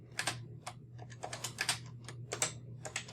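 Rapid, irregular keystrokes on a computer keyboard as code is typed, close and clear over a low steady hum, with no talking.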